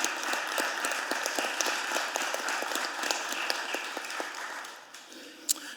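Steady audience applause at a budget hearing for victim services organizations, dense overlapping claps sustained throughout at moderate loudness, tapering slightly near the end with one sharp clap.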